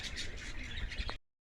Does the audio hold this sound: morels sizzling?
no